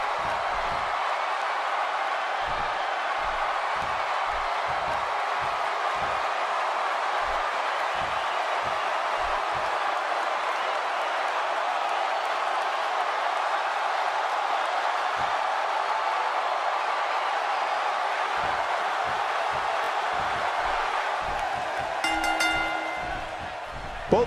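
A dense arena crowd in the WWE 2K17 wrestling game keeps up a steady, continuous roar of cheering for over twenty seconds, with scattered thumps and slams beneath it.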